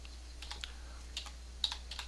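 Quiet computer keyboard typing while a new folder for a WordPress child theme is named, with short scattered clusters of light key clicks over a faint steady hum.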